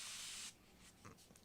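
Short burst of water spray misted onto block print paper, a loud hissing spritz lasting about half a second before fading to quiet.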